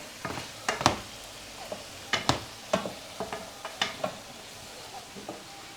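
Beef tartare pieces seared very briefly in a pan, with soft sizzling under intermittent scrapes and clinks of a utensil against the pan, fairly quiet and close.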